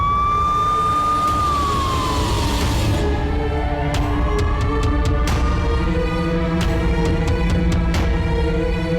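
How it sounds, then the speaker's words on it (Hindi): An ambulance siren wails loudly and steadily, its tone sweeping down and then holding, with sharp clicks and knocks breaking in over the continuous drone. "एम्बुलेंस भी आई थी"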